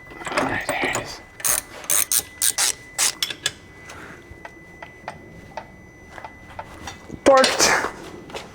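Ratcheting clicks and metallic ticks from a wrench torquing a bolt on a Maserati Quattroporte GTS undergoing a rebuild, coming in short repeated bursts with pauses between them and a louder rattle near the end.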